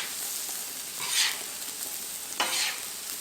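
Cooked rice and shrimp stir fry being mixed on a Blackstone griddle, a soft steady sizzle broken by two quick spatula scrapes across the flat top, with no voices.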